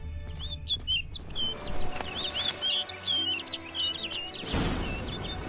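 A bird calls in The Witcher 3 with a quick series of bright chirps and tweets. The calls sound fairly close and stand out over a quiet, low ambient bed.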